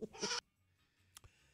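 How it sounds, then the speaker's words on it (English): A goat scream sound effect plays as a loud, harsh, strained bleat lasting under half a second, followed by near quiet with a faint low hum and a brief click. "A kidnapped goat would scream."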